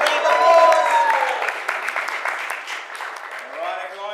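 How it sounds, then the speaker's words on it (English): Audience applause breaks out at a live news talk show during a prize draw for socks, loudest at the start then thinning, with crowd voices and cheering mixed in. "Give it a round of applause."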